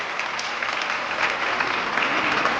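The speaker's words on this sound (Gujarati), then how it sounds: "જોરદાર તાળીઓથી વધાવીએ." Audience applause at a stage event following a dance performance: steady, dense clapping from a crowd, loud and close, continuing evenly throughout without pause.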